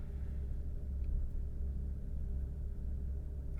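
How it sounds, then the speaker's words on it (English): A car engine idles with a low, steady rumble, constant throughout and fairly close, with no talking. "I'm trying to listen at the engine right now."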